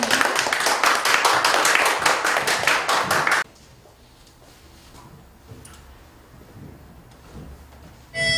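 Audience applause at a Korean concert of praise songs, greeting a poet coming up to recite Psalm 143; a few seconds of dense, steady clapping that stops abruptly, leaving a quiet room.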